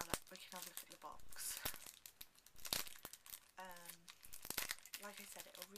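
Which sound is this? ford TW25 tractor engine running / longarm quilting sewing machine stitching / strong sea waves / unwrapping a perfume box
unwrapping a perfume box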